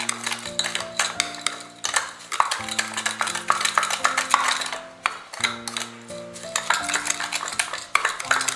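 Spoon whisking a homemade cappuccino coffee mixture in a deep cup, rapid rhythmic metallic clinks and scrapes repeating close up, with only a brief pause in the middle.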